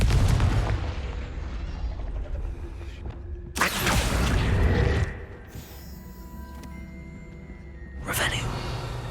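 Confringo fire spell blasts in the video game Hogwarts Legacy, two loud whooshing booms a few seconds apart over a low rumbling game soundscape.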